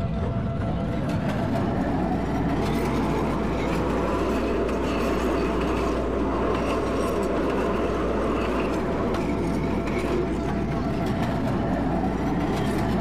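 Simulated CTA Red Line Series 5000 train in Roblox rolling steadily with a continuous low rumble and rail hum, no pauses, loud and close throughout.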